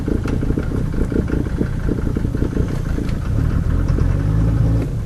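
Diesel engine of a 1990 Mercedes 300D running after a cold start with a loud muffler, a close, rough clattering idle with steady rumbling exhaust throughout.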